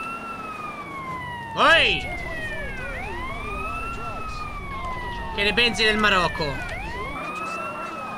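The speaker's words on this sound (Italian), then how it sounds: "Come se leva mo sta cazzo di sirena?" A police car siren in the video game GTA San Andreas wails steadily with rising and falling sweeps throughout, and a voice speaks briefly over it twice.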